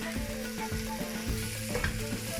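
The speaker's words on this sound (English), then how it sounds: "So I'm just stirring that around and letting the cumin activate on the onions." Onions and a generous amount of cumin sizzle and fry in a pot while being stirred for a vegetable soup, with a close steady crackle and a few soft scraping knocks.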